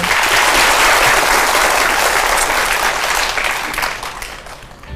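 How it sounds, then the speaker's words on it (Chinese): Audience applause at a magic show, a loud dense burst of clapping from a crowd that holds steady for several seconds before tapering off. "我们是不是应该给小兰先生的勇气一点掌声呢"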